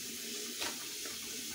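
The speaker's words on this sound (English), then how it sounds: "I'm gonna wash my hands real quick." A kitchen faucet runs steadily while hands are washed beneath it, giving a continuous close hiss of flowing water with a brief louder splash partway through.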